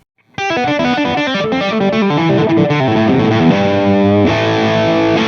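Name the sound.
distorted electric guitar pentatonic lick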